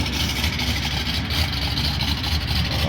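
Truck engine idling at a high school car show, a continuous rough low rumble with steady mid-range roar and outdoor crowd noise, no clear speech.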